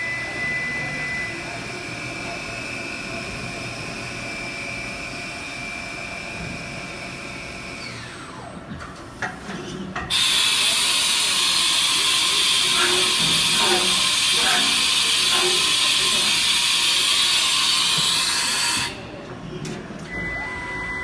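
Spindle of a Haas VF-6 vertical machining center cutting aluminum under light machining: a steady loud whirring hiss that steps up sharply partway through, holds for several seconds, then drops back, with a person talking over it.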